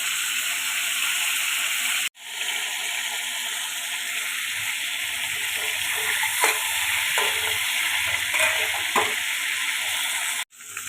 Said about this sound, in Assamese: মাছৰ টুকুৰা কেইপিচ গৰম তেলত ফ্ৰাই কৰি ল'লোঁ।